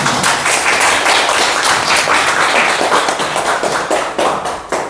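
An audience claps in a dense, steady burst of applause at a church seminar, welcoming a speaker to the front, with the sound thinning out toward the end.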